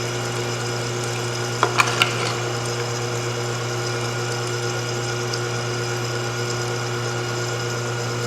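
Electric meat grinder running steadily as it pushes meat through a medium die, a constant motor hum with a couple of brief clicks near the start and no talking.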